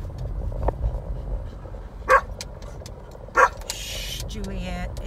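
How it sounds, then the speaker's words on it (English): A standard poodle barks inside a car during a ride, two sharp, loud barks spaced about a second apart over low road rumble and engine hum, followed by a short high whine. "I'm going to quit talking because she's going to keep barking."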